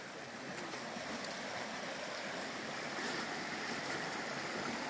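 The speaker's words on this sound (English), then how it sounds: "We'll probably cross over the stream right here" A forest stream near a waterfall on the Pinhoti Trail in Talladega National Forest rushes in a steady, full broadband wash, continuous and fairly close with no talk.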